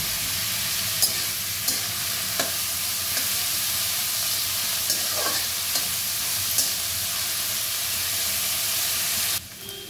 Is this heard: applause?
no